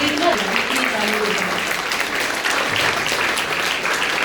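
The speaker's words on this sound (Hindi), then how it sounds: "जोरदार ताली बजाएं" Dense audience applause at an event in India, sustained and fairly loud through the whole stretch, with a faint voice briefly audible beneath the clapping.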